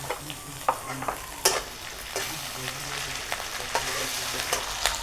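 Ginger and garlic paste frying in a pan while being stirred, a steady soft sizzle with occasional louder spatula scrapes, fairly close and without speech.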